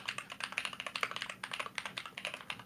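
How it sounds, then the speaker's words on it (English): A clicky mechanical computer keyboard types in a quick, steady run of sharp clacks, close up and alone with no talk. "love the clicky clacky keyboard."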